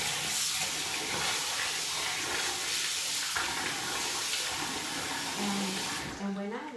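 Hot tap water runs steadily over rice being washed in a kitchen, a continuous close splashing rush for about six seconds before it cuts off, followed by a brief voice.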